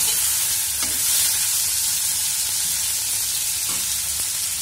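Cluster beans (gawar) fry in hot oil as they are stirred, giving a continuous close sizzle with occasional scraping knocks from the utensil against the pan.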